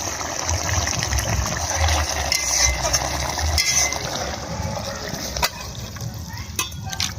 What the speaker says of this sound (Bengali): মাছটা দিয়ে দিচ্ছি, একটু ফুটিয়ে নেবো